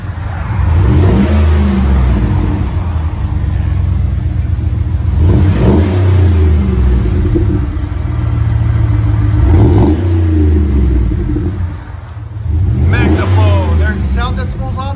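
An SUV with an 18-inch Magnaflow muffler revs repeatedly in loud, deep, close bursts that swell and fall back to idle several times, with people talking over the exhaust.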